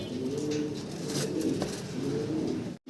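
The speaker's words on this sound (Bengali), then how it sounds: "বাইরে এক জোড়া মুন্ডি কবুতর দেখেন কতটা অ্যাক্টিভ" A pair of Mundi fancy pigeons coos steadily up close, low rolling calls repeating with little pause until a sudden cut at the end.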